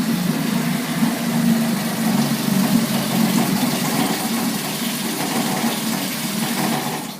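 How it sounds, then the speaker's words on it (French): Outboard boat motor running steadily in a water test tank just after starting, choke off and in neutral, a continuous loud engine drone with no pauses. "On enlève l'étrangleur une fois notre moteur parti."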